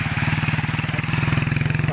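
A motorcycle engine runs close by in flood water from Typhoon Ulysses, its steady rapid putter of exhaust pulses holding an even rhythm throughout.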